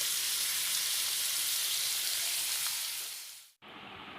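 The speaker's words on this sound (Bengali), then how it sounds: "আলুগুলো খুব ভালো করে লাল লাল করে ভেজে নেব" Potatoes fry in hot oil in a pan, seasoned with salt and turmeric, giving a close, steady sizzle that crackles evenly and then briefly cuts out near the end, with no talking.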